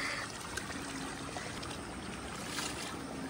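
Floodwater rushes loudly and steadily in a continuous roar, close by as a storm sets in, with no pauses.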